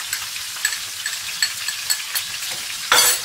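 Chicken or goat liver frying in a pan with dry spices and ginger-garlic paste, a steady close crackling sizzle with occasional sharper pops and a louder burst of spattering near the end.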